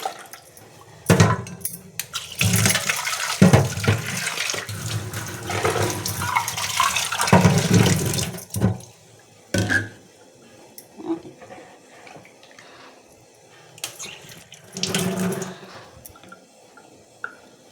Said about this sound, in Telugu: ఈ నీళ్ళు వేస్ట్ చేయను, మొక్కల్లో వంపుతాను.